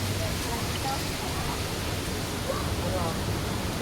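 Strong current of spring water at a hot and cold spring resort, rushing loudly and steadily like a close waterfall, a continuous broadband roar with faint voices mixed in.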